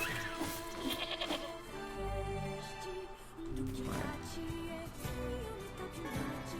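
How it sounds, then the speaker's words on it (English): Sheep bleat several times in the NieR Replicant video game, with layered, wavering cries set over game music. "Kill some sheep."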